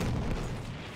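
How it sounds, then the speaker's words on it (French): In the video game Battlefield 1, a grenade goes off as a deep, rumbling boom that fades away over about a second, heard at a moderate distance with no voices over it. "Attention, grenade."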